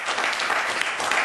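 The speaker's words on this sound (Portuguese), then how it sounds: "um aplauso" Brief burst of audience applause at a Portuguese gastroenterology talk on pancreatic cancer, steady dense clapping from a room full of people.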